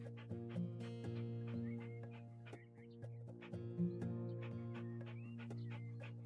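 A dog in the House Flipper video game whimpers and yips in short, repeated bursts over a steady humming game soundtrack.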